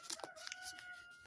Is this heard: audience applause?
no